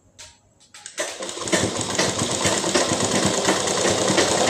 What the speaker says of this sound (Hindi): तो चलिए पहले सिलाई लगा लेती हूँ